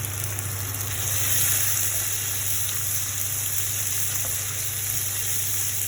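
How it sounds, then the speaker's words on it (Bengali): Garlic and ginger sizzle steadily in hot oil in a pan while being sautéed for Bengali egg curry, a constant close hiss over a low background hum, with no talking. "এবার এটা একটু কষতে হবে যতক্ষণে রসুন আর আদার গন্ধটা চলে যায়।"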